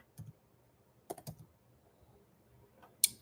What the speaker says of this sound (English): I found it's easier just to type the damn thing.